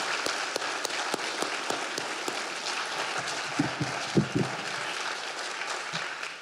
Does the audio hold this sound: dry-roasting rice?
no